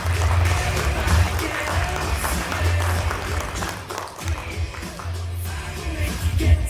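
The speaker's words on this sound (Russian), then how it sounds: "Друзья, аплодисменты." Audience applause at a season-2022 results ceremony, steady dense clapping filling the room throughout, with low rumbling and a brief dip midway before it swells again.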